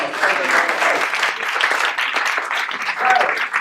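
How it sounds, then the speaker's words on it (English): A round of applause at a ceremony, steady dense clapping from a gathered crowd that stays fairly loud throughout, with voices mixed in. "round of applause."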